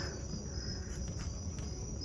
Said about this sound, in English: I'm gonna see if you can hear the mosquitoes.